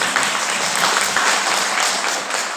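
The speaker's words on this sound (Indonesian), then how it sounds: "Berikan tepuk tangan." Sustained applause from a seated audience at an early-childhood educators' training meeting in Central Java, a dense, steady wash of many hands clapping that continues unbroken throughout.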